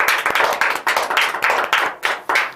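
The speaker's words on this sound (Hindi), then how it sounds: "एक बार जोरदार तालियां हो जाए" A classroom of students clapping together for a classmate during an English lesson, a loud, close burst of rhythmic applause with about eight distinct surges that keeps going to the end.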